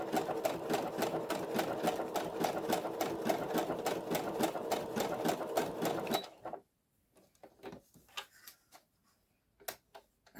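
A sewing machine stitching alphabet paper onto cloth, a fast regular mechanical clatter of needle strokes, close and continuous for about six seconds before stopping, followed by scattered small clicks and handling sounds.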